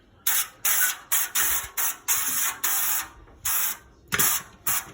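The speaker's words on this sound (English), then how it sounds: "we're gonna go ahead and spray some coconut oil" Repeated short bursts of coconut oil aerosol cooking spray, about ten quick hisses in an uneven rhythm, close and fairly loud with brief pauses between.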